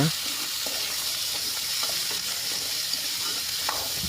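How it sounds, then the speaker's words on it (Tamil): Boiled chickpea sundal stirred with onions frying in oil: a continuous close sizzle with faint scraping strokes of a spoon throughout. "இதை நல்லா கிளறி விட்டுடலாங்க"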